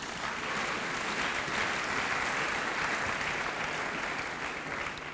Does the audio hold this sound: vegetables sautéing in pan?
no